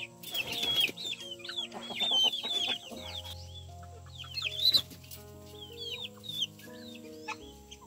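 A rooster clucks while eating on a farm, giving repeated short, quick clucks in irregular bursts alongside soft pecking noises and faint background hum, fairly close but not loud.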